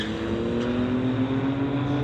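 A 1983 Mazda RX-7 nicknamed the Bullet and a Porsche 911 drag race on a street-legal strip, their engines droning loud and steady with a sustained high-revving tone throughout.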